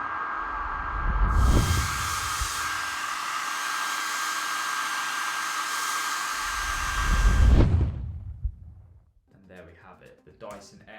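A Dyson Airwrap hair styler blows a loud, steady hiss of air with a faint whine, as a designed sound effect with low whooshing swells at start and end, then cuts off; a voice talks briefly after.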